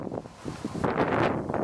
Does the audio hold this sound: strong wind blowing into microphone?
yes